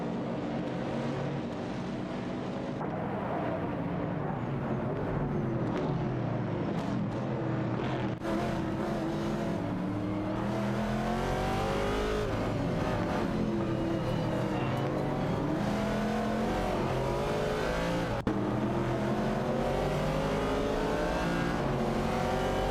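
Race cars, including a Chevrolet Camaro 69 and Ford Falcons, scream through an AI-driven racing video game, a continuous dense roar of several engines rising and falling as they duel for position.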